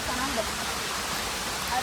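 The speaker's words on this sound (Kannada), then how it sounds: "ಐ ಥಿಂಕ್ ಫಾಲ್ಸ್ದು ಸೌಂಡ್ ಕೇಳಿಸ್ತಾ ಇದೆ ಅನ್ಸುತ್ತೆ ನಿಮಗೆ." Sirimane Falls roaring during rain, heard as a steady, dense wash of rushing water that fills the whole scene at an even loudness without any breaks.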